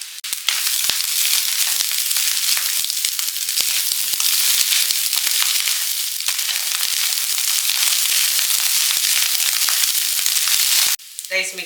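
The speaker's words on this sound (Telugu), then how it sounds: "చికెన్ వేసిన తర్వాత ఇప్పుడు మనము బాయిల్ చేసుకున్న రైస్ వేసుకుందామండి" Boiled rice, cooked with salt and oil, is stir-fried with chicken in a hot pan, giving a loud continuous sizzle with scraping stirring clicks, then a brief voice at the very end.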